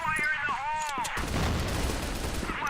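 Video game gunfire and a grenade blast during a competitive match, with a rising whine before a dense broadband burst of shots and explosion noise that fills the rest of the moment, loud and close, with a commentator talking over it.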